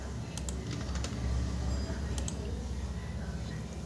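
A computer keyboard typed on while working in Microsoft Word, with scattered key clicks and a couple of sharper keystrokes over steady background hum, close and quiet.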